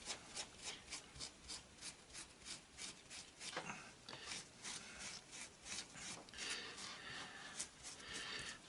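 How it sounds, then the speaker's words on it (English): Steel wool is rubbed back and forth over a resin casting in steady, rhythmic scratchy strokes, faint and close, repeating about twice per second without speech. "Let's take the steel wool to it and kind of see what it..."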